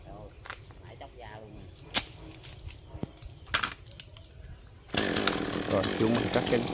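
A chainsaw, a GZ4350, buzzes in the distance with scattered clicks and snaps, then roars up loudly and steadily near the end as it bites into eucalyptus tree branches.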